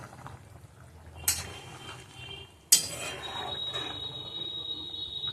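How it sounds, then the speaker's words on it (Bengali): Poppy seed paste stirred into potato curry in a pan, with a couple of sharp clanks from a utensil against the pan and soft scraping and bubbling between them. "এবার পোস্তটা দিয়ে নাড়া দেব"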